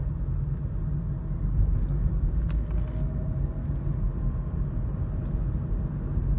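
Downtown road traffic, as heard from inside a moving car, gives a steady low rumble and road drone with faint passing vehicle sounds, continuous and muffled, no voices.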